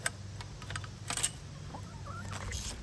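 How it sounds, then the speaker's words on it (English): Free-range homestead chickens clucking as they are let out of their coop, a steady chorus of soft clucks and calls close by, with a brief louder flurry partway through and no talk. "I'm going to go ahead and let these chickens out and let them free range a little while"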